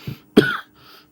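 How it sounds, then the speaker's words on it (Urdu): A man coughs close to the microphone: one soft cough, then a single harsh, forceful cough, followed by a faint throat sound. "اچھا کھانسی آ رہی، طبیعت خراب ہے۔"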